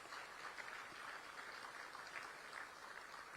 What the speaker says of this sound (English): give the President a round of applause for his very good speech